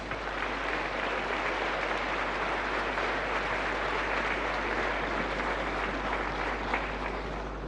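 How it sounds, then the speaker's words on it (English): Sustained applause from a large audience at a young entrepreneurs forum, welcoming the Prince of Wales, dense and even clapping that continues throughout without pause. "I'm sure we can do a much louder round of applause."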